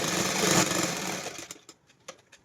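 A sewing machine stitching a seam on a pair of pants, a short burst of fast whirring that winds down, followed by a few faint clicks and taps.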